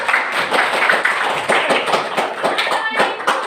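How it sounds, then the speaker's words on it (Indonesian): Students clapping in a classroom, a loud close run of uneven individual claps with distinct sharp hits, some voices faintly mixed in. "Berikan tepuk tangan dulu."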